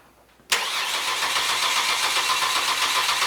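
A car engine catches after a short quiet lead-in and then roars steadily and loudly, close by, for the rest of the clip.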